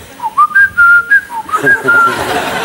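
A man whistles in imitation of a blackbird's song, a loud, close, fluttering melodic phrase of rising and falling notes, with a voice and murmurs underneath toward the end.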